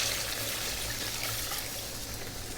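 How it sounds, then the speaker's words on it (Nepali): Water is poured into a pan of fish curry seasoned with garlic paste and salt, a steady broadband splashing rush that runs close and fairly loud through the whole moment, with no talking. "म पानी हाल्छु"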